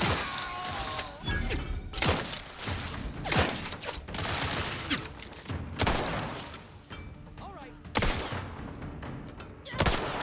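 Gunfire in the video game The Outer Worlds 2, with repeated loud bursts of shots and impacts in rapid, irregular volleys that come in close one after another, mixed with thuds and mechanical clatter.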